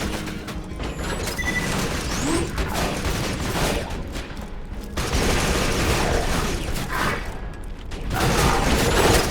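Dense, continuous Borderlands 2 gunfire while shooting an enemy, with rattling, mechanical shots and clatter at a steady loud level, and brief electronic chirps mixed in.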